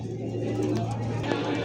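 European fancy pigeons coo softly in a low, steady drone at a pigeon farm, close by, with a brief brighter flutter of other sound partway through and no speech.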